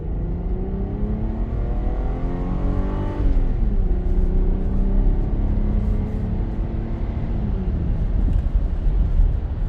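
A Hyundai Santa Fe, after timing belt and water pump work, accelerates hard on a road test. Close, steady engine drone rises in pitch, drops at a gear shift, then climbs again.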